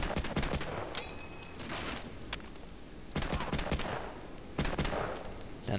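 Bursts of gunfire from the World War II shooter game Medal of Honor: Allied Assault, several rapid volleys with short gaps between them, loud and close, with mechanical clatter in between.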